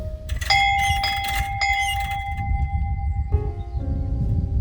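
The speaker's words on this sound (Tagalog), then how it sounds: "Kaya, i-ring na lang tong bell." A hand bell rung to call people to eat at a grandfather's French cottage house: several bright, close ringing strokes in quick succession, then lingering tones that fade and shift.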